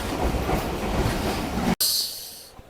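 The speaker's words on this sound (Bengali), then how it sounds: "এই যে দেখতে পাচ্ছেন এখানে ট্রেনটি দাঁড়িয়েছে" A loud rumbling train arriving at Panchagarh station in Bangladesh fills the space with a steady roar, then cuts to a quieter hiss and faint rail noise as it slows.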